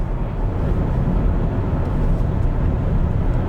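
Steady broadband wind and road roar inside a BMW iX3 xDrive50 Neue Klasse electric SUV cruising at highway speed, about 130 km/h, a constant, fairly loud wash of noise with no talking.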